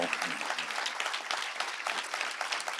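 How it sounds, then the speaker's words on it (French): An audience in Paris applauds the author Bret Easton Ellis, continuous close clapping throughout with no pause. "Je vous demande de l'applaudir encore une fois"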